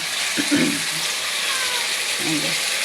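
A ridge gourd and potato curry sizzles steadily in hot oil, a broad continuous hiss throughout, with a couple of brief low voice-like murmurs partway through and near the end.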